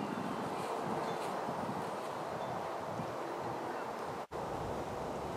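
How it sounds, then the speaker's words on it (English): Hard wind blowing over open water on a fishing trip, a steady loud roar of buffeting microphone noise with a brief dropout near the end. "since that wind's blowing as hard as it is"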